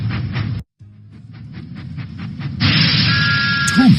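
Thomas the Tank Engine steam train in a children's video game, a series of rhythmic chuffing puffs building after a brief silence, then a brighter sustained steam hiss with a short whistle-like tone at the end.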